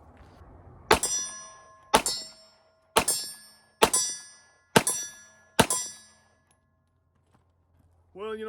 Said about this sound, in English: I'm just gonna go ahead and unload this mag on the steel